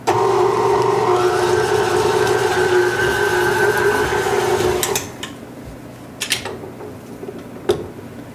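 Greek yogurt being mixed into a whipped feta dip, a continuous whirring machine drone for about five seconds that then cuts off, followed by a few sharp clinks and scrapes.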